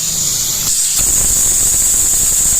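A loud, continuous high-pitched hiss of steam venting from a pressure cooker cooking mutton, close by, with a brief dip before it surges back steadily.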